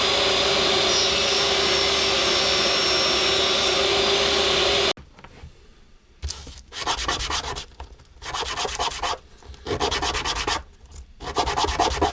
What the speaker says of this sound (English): I can sand it flat again with a sanding board